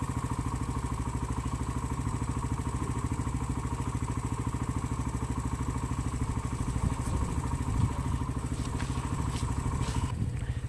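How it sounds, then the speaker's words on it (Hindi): A motorcycle engine idles steadily at high revs in cold early-morning mountain air on a ride toward Naran, Kaghan and Babusar Top, a close, continuous throbbing hum with a faint rattle and no talking. "तकरीबन कोई 3 से 4 मिनट तो बाइक मैंने स्टार्ट रखी है फुल"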